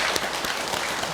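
An audience at a Buddhist dharma service for the lunar fourth-month first-day gathering applauds with dense, continuous clapping throughout this short moment.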